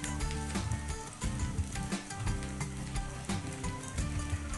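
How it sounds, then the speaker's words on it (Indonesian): Steady sizzling of Javanese fried noodles (mie goreng Jawa) frying in a pan, with soft scraping from stirring, heard alone over background music. "Masak kembali mie kurang lebih 5 menit supaya bumbunya meresap."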